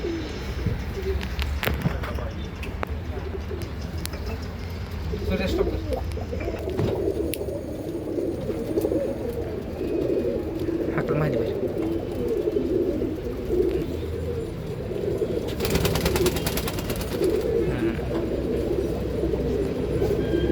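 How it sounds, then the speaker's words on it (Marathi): Pigeons cooing in a breeding loft, low repeated coos layered over a constant hum of background noise, with a few sharper bird sounds and faint voices mixed in. "ही व्हाईट डोळ्यामध्ये व्हाईट कबूतर आहे"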